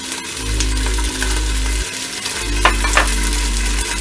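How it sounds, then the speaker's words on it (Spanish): Bacon sizzles and crackles steadily in a pan alongside a low, constant hum, with a couple of sharper pops or clinks partway through and no speech. "lo, que vamos a empezar a freír es el tocino o bacon"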